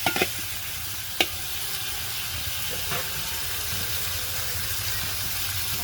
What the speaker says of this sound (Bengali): এখন আমি চিংড়ি মাছটি দিয়ে দিচ্ছি।